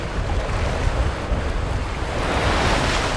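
Strong northeast monsoon wind over Longluan Lake, a loud, steady broadband roar of gusting air buffeting the microphone, continuous and close with no other sounds.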